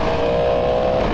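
A 2023 Yamaha MT10 motorcycle with its exhaust servo deleted revs loudly, a close, sustained engine tone holding steady through a brief burst.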